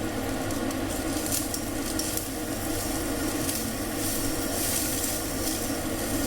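Purple cabbage fried rice being stirred in a pan over low heat, with a steady close sizzle and continuous scraping of a utensil through the rice, no voices.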